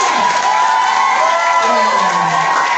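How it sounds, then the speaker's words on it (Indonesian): Crowd of students cheering, whooping and applauding the candidates at a school student-council (OSIS) debate, a loud, continuous wash of shouts with voices rising over it. "Sekali lagi berikan tepuk tangan untuk kedua balon dulu."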